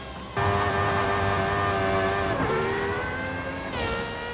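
A GMA T.50 engine in the Forza racing game accelerates hard, a loud, sustained rising roar with a shift in pitch about halfway through and another near the end, with no talking.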